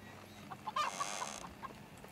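Chickens cluck in the Medieval Dynasty video game, a few faint short clucks and squawks from a farmyard, quiet and slightly distant.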